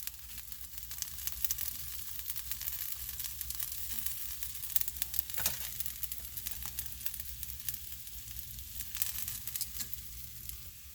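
Beef for birria tacos sizzles steadily in a hot pan, a continuous hissing fry with scattered crackles and a few louder pops, close and moderately quiet, with no voices.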